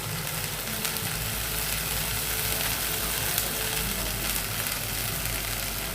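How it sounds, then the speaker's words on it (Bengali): Onion paste tipped into softened onions already frying in a pan gives a steady, loud, continuous sizzle that holds evenly throughout, with no talk. "পেঁয়াজ যখন নরম হয়ে আসবে এর মধ্যে দিয়ে দিব পেঁয়াজ বাটা।"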